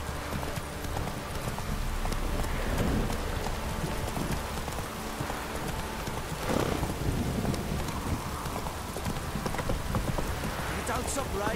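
Steady rain in The Witcher 3 video game falls as a continuous hiss, mixed with the clip-clop of a horse's hooves and a low rumble, at even loudness throughout.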